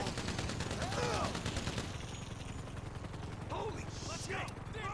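Gunfire from a GTA Online gameplay session, dense rapid shots layered with explosive crackle that fade into a quieter stretch with scattered bursts, while voices talk over the action.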